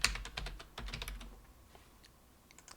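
Quick burst of typing on a computer keyboard as a domain name is entered, a rapid cluster of light clicks that tapers off into a few scattered taps, close and quiet.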